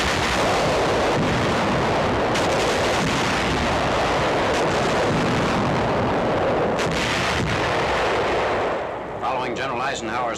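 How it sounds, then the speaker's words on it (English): An 8-inch field artillery gun fires point blank at fortress walls during a 1944 siege in France: a sustained, dense roar of heavy blasts and rumbling, loud and continuous, with a faint voice near the end. "A field artillery battery brings forward an 8-inch gun on 11th September to fire point blank at the massive walls"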